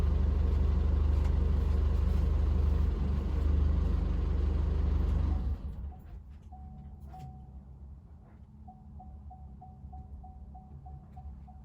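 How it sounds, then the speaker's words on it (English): A VW Amarok engine idles loud and steady, then is switched off and cuts out abruptly midway, leaving a quiet hum with a few short, evenly spaced electronic beeps. "What I'll do now is we'll go and turn off the vehicle."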